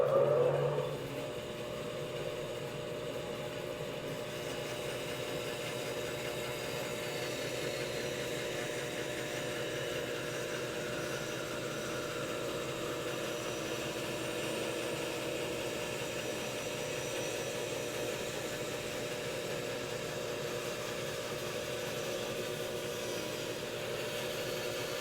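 A band saw runs at a steady mechanical hum, cutting along a marked line, close and continuous with little change from start to finish.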